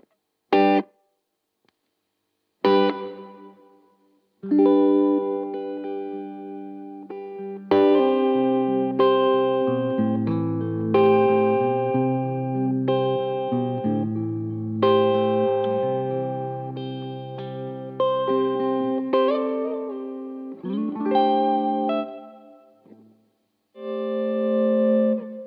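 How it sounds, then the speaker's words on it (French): A short hall reverb gives a tight sense of space to Jeff Buckley's Hallelujah, where clean, clear electric guitar arpeggios ring out and sustain, beginning with a few isolated notes before settling into a flowing sequence. "Elle est vraiment magnifique cette reverb."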